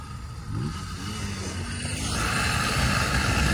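A small gas-powered motorized bicycle with a loose spark plug revs its engine, a steady buzzing drone that grows louder and fuller partway through, heard outdoors while out riding around town with friends.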